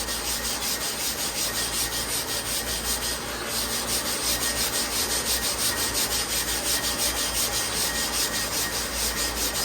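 Lister large animal clipper blades are ground on a rotating grinding plate, a loud continuous abrasive rasp with a steady pulsing rhythm and machine hum, close up throughout, no talking.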